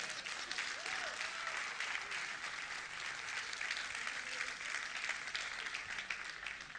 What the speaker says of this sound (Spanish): Me da un fuerte aplauso.